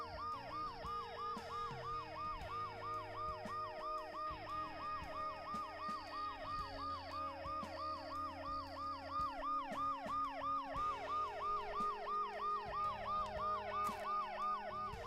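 A video-game ambulance siren wails in a fast, repeating up-and-down yelp, loud and continuous, with engine rumble beneath it.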